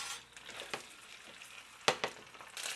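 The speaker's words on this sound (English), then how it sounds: "So we're going to do it shallow fry and on a medium heat." Kofta shallow-fries in oil over medium heat, producing a steady close sizzle broken by a few sharp crackles and utensil scrapes as the pieces are turned.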